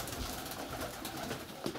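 Pigeons coo in a dovecote, soft low throaty calls heard at a moderate distance over a steady background murmur.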